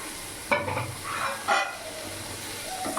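Puti fish frying in a pan with salt, turmeric and tomatoes gives a steady close sizzle, with two brief bursts of stirring scrapes over the constant hiss.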